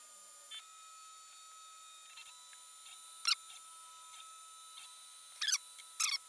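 An Ender 3 Pro 3D printer fitted with a BLTouch probe runs its auto-home routine: faint, steady stepper-motor whine with a few sharp, brief clicks and buzzes from the probe and carriage, quiet and close.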